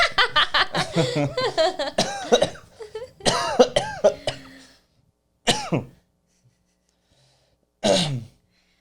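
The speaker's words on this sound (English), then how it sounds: "Just getting that COVID cough out." A person coughs repeatedly in harsh, rasping bursts, close up, then pauses before two more isolated coughs after stretches of silence.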